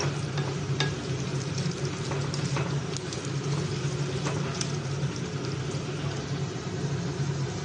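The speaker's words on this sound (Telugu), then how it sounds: "ఇలా బాగా వేయించుకోవాలి. లో ఫ్లేమ్లో మాత్రమే వేయించుకోవాలి." Sesame seeds and coriander seeds dry-roast in a pan over a low flame, making a continuous soft crackling hiss with occasional light stirring clicks, close and steady throughout.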